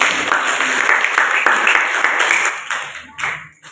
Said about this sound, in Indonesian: ya kembali tepuk tangan dulu kelompok 6